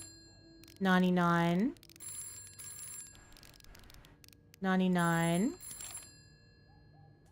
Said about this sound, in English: That phone is actually distracting while you're trying to do the code.